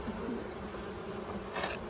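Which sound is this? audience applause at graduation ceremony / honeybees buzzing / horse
honeybees buzzing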